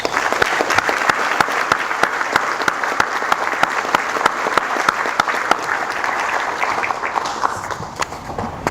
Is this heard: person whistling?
no